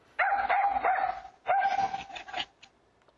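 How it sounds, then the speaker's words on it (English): A small eight-year-old terrier mix barks repeatedly at a bear in a Connecticut backyard, loud sharp yaps in two bursts, picked up by a home security camera with no talking. "The video shows an 8-year-old terrier mix running towards a line of trees, barking"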